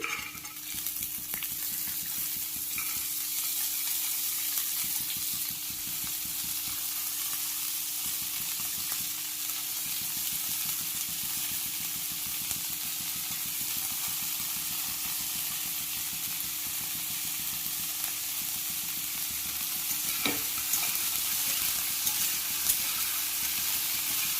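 Chickpeas frying in a pan while cooking papaya curry give a steady, unbroken sizzle and crackle that holds at an even level throughout, with occasional faint clinks and no voices.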